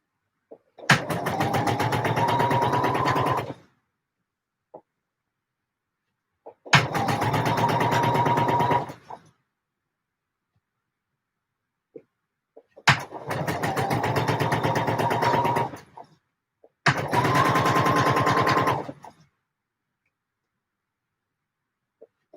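A sewing machine stitches in four separate runs of about two to three seconds each, with quiet pauses between them. It gives a close, loud, rapid mechanical whirr and tick with no talking.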